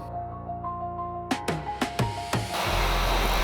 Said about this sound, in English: grab the heat gun, apply a little bit of heat to get the glue tacky and start bonding